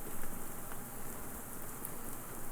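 Steady rain falls in the video game Shadows Over Loathing, a soft, even patter of drops on surfaces that continues without pause, with no voices.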